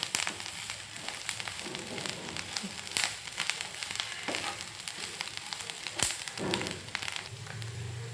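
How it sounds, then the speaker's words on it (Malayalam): Leaves and spices dry-roast in a pan for coconut chutney, a soft continuous sizzle and crackle with occasional light stirring scrapes, fairly quiet and heard alone. "ഇതെല്ലാം കൂടെ നമുക്ക് വറുത്തെടുക്കാം"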